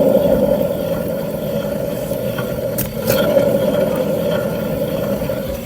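A worn wheel bearing on a Vauxhall Opel Astra J or Chevrolet Cruze gives a steady droning hum while the car drives, constant and fairly loud, with no talk.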